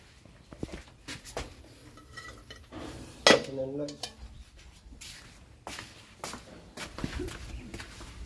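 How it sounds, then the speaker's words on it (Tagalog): Metal cooking pots clatter and clank on the floor, scattered knocks and one loud ringing bang midway, with people talking throughout. "Malibag ko kaya itong mga kaldero na to, Ben"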